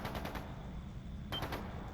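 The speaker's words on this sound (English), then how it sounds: "That sounds like... it's already a firefight. Gunfire." Rapid bursts of automatic gunfire from a firefight in the video game Trails into Reverie, a dense, steady rattle of shots heard at a moderate distance with no talking.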